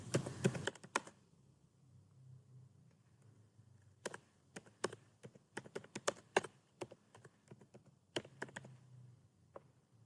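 Typing on a computer keyboard, with quiet clusters of clicking keystrokes in uneven bursts separated by short pauses, close by and with no talking.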